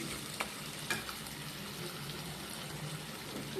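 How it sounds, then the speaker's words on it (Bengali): Spice paste frying and being stirred in hot oil for chicken curry, a faint steady sizzle with a few soft scraping strokes of the spoon and no talking. "মশলাটা ভালো করে কষিয়ে নিচ্ছি।"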